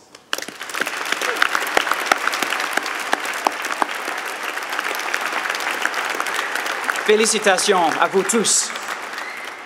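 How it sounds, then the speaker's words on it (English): A graduation audience for the class of 2014 claps in loud, sustained applause that fills the hall, and a speaker's voice comes in over the clapping near the end. "let us give you a well-deserved round of applause."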